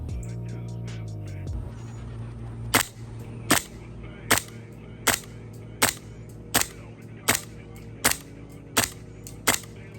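Airsoft gun fitted with a mock suppressor fires BBs from a tap magazine, ten sharp, evenly spaced loud cracks at roughly one-second intervals over a steady low hum.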